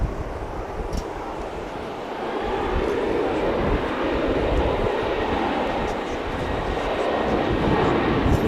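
Frontier Airlines flight 2711, a jet departing DFW Airport, roars as a broad, sustained rumble that swells slightly and holds steady throughout, heard from a distance without talk.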